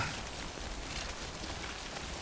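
Timefall rain in the game Death Stranding patters steadily on surfaces, a soft, even hiss of falling drops with no pauses and no voices.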